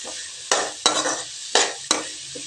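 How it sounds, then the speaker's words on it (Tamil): Onion and curry leaves sautéing in a pan for radish poriyal: four sharp, close stirring scrapes in uneven rhythm over a faint sizzle, with no talking. "வெங்காயம் நல்லா வதங்கிடுச்சுங்க."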